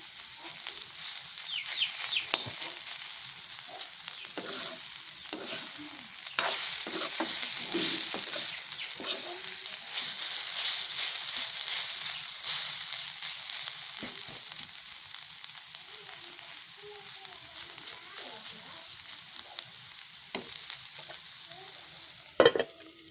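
Radish fries in oil in a pan over a low flame. A continuous soft sizzle runs throughout, broken by frequent scraping stirs and a sharp clatter near the end.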